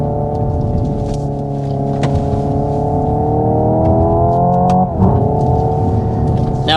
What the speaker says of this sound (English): Red line in an electric car.